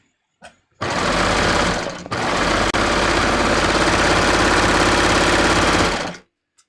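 Sewing machine stitching a seam on a raglan sleeve top, a loud, close, steady mechanical whir that starts abruptly, pauses briefly near two seconds, then runs on evenly before stopping, with no talking.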